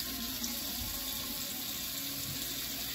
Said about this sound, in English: add a little bit of water to my face